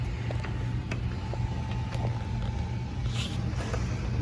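A sewing machine stitching a quilted tote hums and whirs steadily at a slow, even pace, with faint rhythmic ticks and creaks from the mechanism.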